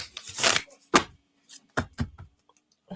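Oracle cards shuffled in quick bursts, crisp riffling flutters and slaps close up, separated by short pauses, with no voice over them.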